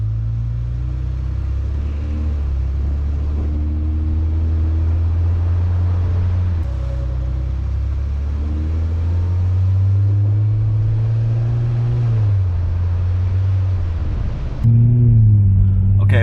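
A car drives along with a camera mounted on its roof, its engine a loud steady drone that rises and falls with gear changes and wind rumble across the whole stretch.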